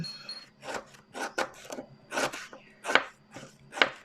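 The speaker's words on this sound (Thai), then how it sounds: "ก่อนอื่นเรามาหั่น เครื่องก่อน" A knife chops curry ingredients on a board for a northeastern Thai (Isan) beef curry with fermented fish, in a steady series of about eight crisp, close cuts with no talk.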